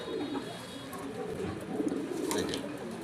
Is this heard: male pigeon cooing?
yes